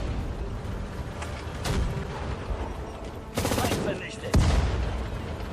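Gunfire from units in the WWII strategy game Sudden Strike 4 during a Tobruk battle involving a tank: scattered shots and bursts crackle under steady battle noise, with a couple of louder booming volleys near the end.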